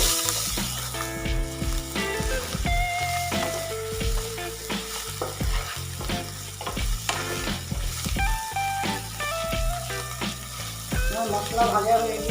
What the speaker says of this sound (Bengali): মশলা ভাজা হয়ে গিয়েছে